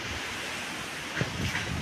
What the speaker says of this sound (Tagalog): sobrang lakas po ng hangin dito sa amin